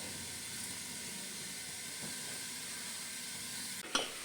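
Onions cooking with salt under a lid in a pan for chicken: a steady, soft sizzle and hiss throughout, with a brief clink or knock near the end and no talk.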